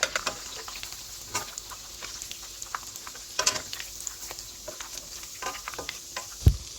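Potato-paneer bird's nest snacks sizzle in hot oil, with a continuous crackling hiss, scattered sharp pops and occasional spoon stirring sounds, close and moderately loud, without any talking.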